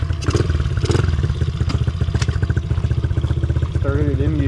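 A Honda CRF50 big bore dirt bike engine running on jet fuel putters with a steady, rapid idle thump up close, loud and continuous, with a brief whine near the end.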